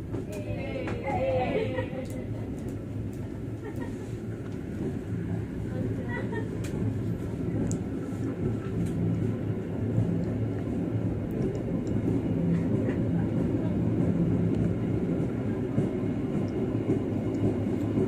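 A train pulling away from Krian station on a double-track line, a steady low rumble and rolling wheel noise building slightly over time, with occasional clicks and a voice talking over it.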